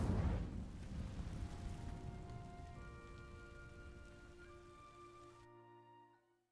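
Incendio fire spell cast in the Hogwarts Legacy video game: a loud, close burst of roaring, crackling flame that settles into a sustained shimmering magical ring, fading out over several seconds with no talking.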